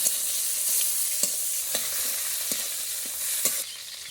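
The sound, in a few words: chopped tomato frying and stirred in pan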